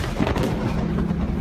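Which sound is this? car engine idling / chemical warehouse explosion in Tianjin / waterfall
chemical warehouse explosion in Tianjin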